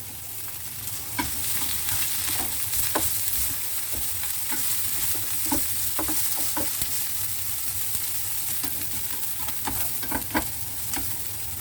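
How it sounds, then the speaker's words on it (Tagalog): Onion and garlic sautéing in oil for baked beans with eggs, a constant loud sizzle with scattered spatula taps and scrapes against the pan, close up and without any talk. "Igisa natin yung onion at saka garlic."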